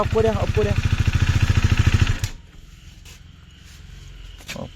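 A brand-new 390 motorcycle engine runs loud and steady with a rapid pulsing beat for about two seconds. It then drops abruptly to a much quieter, low idle.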